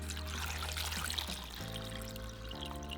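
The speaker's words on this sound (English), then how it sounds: "We're going to add enough water to cover our potatoes." Water pours steadily into a small saucepan over potatoes, a close, soft trickling and splashing whose pitch shifts as the pan fills.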